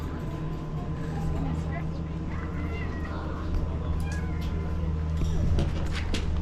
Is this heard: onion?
no